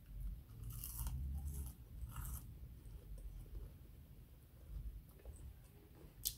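Close, crisp crunching of falafel being chewed, several loud bites early and then softer, steady munching with no talk.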